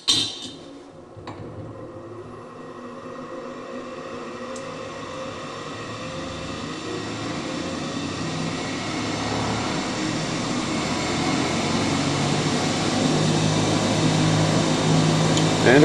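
Steady whirring hum of a 10.5 pound offset-mass rotor spinning up toward 3200 RPM on a test rig, droning continuously and slowly growing louder.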